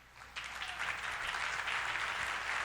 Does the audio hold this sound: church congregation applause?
yes